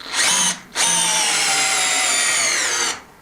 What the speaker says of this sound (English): It's actually going in with the drill on drill mode,